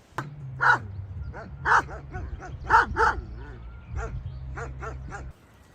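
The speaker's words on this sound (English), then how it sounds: "a sudden chorus of frantic barking shatters the quiet" Several dogs bark in rapid, overlapping bursts, loud and close, with yips between, over a steady low hum.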